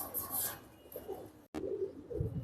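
Pigeons in a loft where birds are kept for sale give soft, low cooing that stays faint against background noise, broken by a brief silent gap midway.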